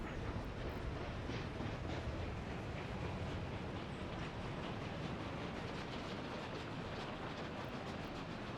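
A freight train in the city-building game Workers & Resources rolls along track with continuous clattering wheel noise and rumble, steady and fairly close, without talking.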